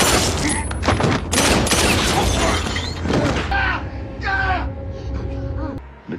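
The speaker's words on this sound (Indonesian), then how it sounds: "Orang-orang di luar ruangan mendengar suara tembakan" Gunfire in an indoor room, a loud burst of rapid shots mixed with crashing and clattering, followed by quieter movement as the noise dies down.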